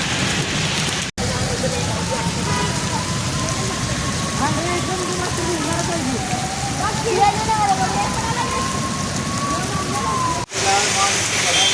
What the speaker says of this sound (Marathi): जसं की तुम्ही बघू शकता पावसाची अवस्था ही काय झालेली आहे